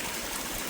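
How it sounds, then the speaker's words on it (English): A small creek fed by a spring runs through woods near the Appalachian Trail, a steady close rush and trickle of water with no talk. "I'm really impressed how this little creek runs just from that spring."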